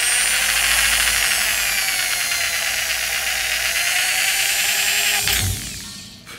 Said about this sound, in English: This drill, yo. It's perfect. It went right through like butter.